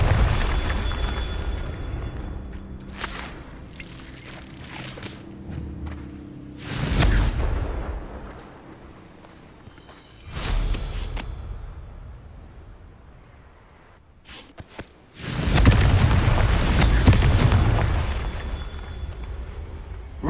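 Confringo fire spells in the Hogwarts Legacy video game burst into several deep, booming explosions, each swelling and then fading away. A large blast near the end is the loudest, and quieter rumbling and whooshes fill the gaps between them.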